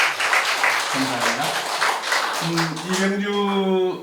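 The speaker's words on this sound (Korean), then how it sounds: "다시 한번 박수 주십시오." Applause from a concert audience at a humanities and arts concert on Buksung-ro, the clapping continuing as someone speaks over it with an amplified voice.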